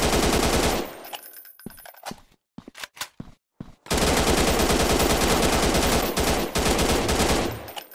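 Gunfire rattles in the low-poly Zombie Town survival video game as long, loud automatic bursts. A break of scattered single shots with near silence between them sits in the middle, and then continuous fire returns.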